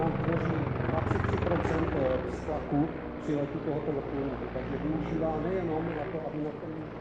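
Mi-24 military helicopter in an airshow display flight, its rotor and engine making a steady throbbing roar throughout, with a voice talking over it.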